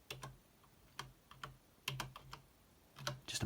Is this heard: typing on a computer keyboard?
yes